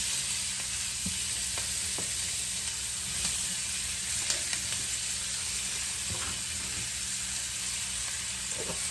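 Vegetables hit a hot pan and sizzle steadily, a constant frying hiss with small crackles and pops running throughout, close and fairly loud, with no talking.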